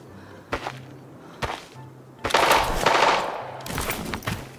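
Gunfire in a multiplayer shooting video game: sharp isolated shots, then a sustained loud burst of rapid automatic fire followed by more clustered shots.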